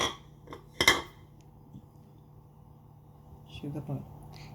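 Roasted cardamom powder, sugar powder and salt are stirred together in a bowl: a couple of brief scraping clinks of a spoon against the dish, with quiet gaps between them.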